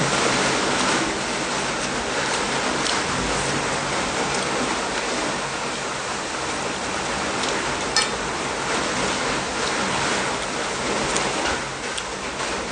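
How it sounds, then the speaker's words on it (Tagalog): Heavy rain pours in a steady, dense hiss that fills the whole clip at an even level, loud and close, with no voices over it. "Lakas ng ulan."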